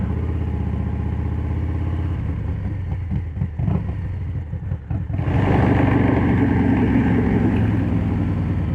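Harley-Davidson Street Bob 114 motorcycle with Stage 2 tune and loud exhaust, idling with a deep lumpy rumble, then opening up into a louder, steady roar that holds close by.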